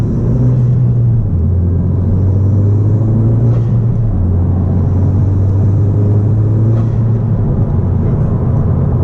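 Loud, steady engine drone from a 10th-generation Honda Civic Si, low humming tone shifting pitch as revs change, with faint airy turbocharger whooshes over the rumble.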